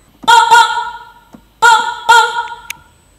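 A short sampled music phrase from a song: two pairs of bright, harmonically rich stabs separated by a pause, each decaying quickly, with a small tick in between.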